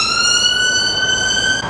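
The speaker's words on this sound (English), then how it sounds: "There's something really exciting happening, lots of sirens and a helicopter and stuff." Emergency vehicle sirens wail steadily and loudly, a sustained rising tone close by with traffic rumble underneath, cutting off abruptly near the end.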